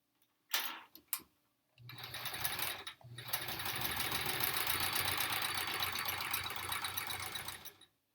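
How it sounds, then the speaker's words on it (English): A sewing machine runs in a steady rapid stitching rhythm through a wool-blend fabric after a few sharp mechanical clicks, continuous and close for several seconds before stopping. "now I can sew those other parts"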